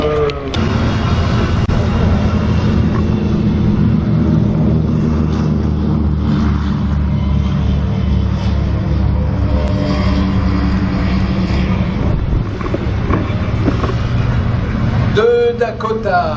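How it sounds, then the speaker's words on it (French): Douglas DC-3 piston-engine aircraft taking off at an air show at the Jean-Baptiste Salis aerodrome in June 2014, giving a loud, continuous, droning engine roar that holds steady for the whole stretch, with faint voices mixed in. "Et donc au décollage, maintenant les DC-3 qui vont participer à cette énorme"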